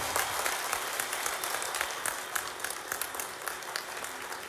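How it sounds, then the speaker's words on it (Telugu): An audience at a political meeting for an MLC graduates' constituency election applauds a candidate, with dense, steady clapping from many hands filling the whole stretch at close range. "ఒక్కసారి గట్టిగా చప్పట్లతో మనకు స్వాగతం పలుకుతుంది"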